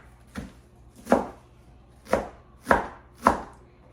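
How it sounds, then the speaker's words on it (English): Knife chopping purple cabbage for no-mayo coleslaw on a cutting board: five sharp, close chops at uneven intervals, with quiet gaps between strokes and no talking. "I just usually go through and just chop this a little bit smaller"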